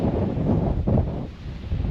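Wind rushes in gusts against the microphone while travelling on a trek to a volcano in the Comoros, a low buffeting roar that swells and eases with no voices.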